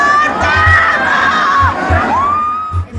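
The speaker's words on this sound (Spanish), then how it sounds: "entre aplausos y porras" A dense outdoor crowd at a political march in Mexico cheers, whoops and shouts, with high excited voices over a constant roar and faint low thumps, loud and close throughout.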